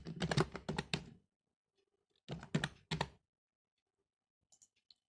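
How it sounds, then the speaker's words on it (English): Typing on a computer keyboard, two quick clusters of crisp close key clicks separated by a pause, followed by a few faint taps near the end, with no voices. "So I will type in linear layout."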